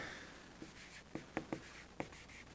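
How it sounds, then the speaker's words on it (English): Pen or marker strokes writing a trigonometry equation during a geometry lesson, a handful of short scratchy taps and strokes, close and fairly quiet, with no talking. "So I'm going to write the sine of angle A"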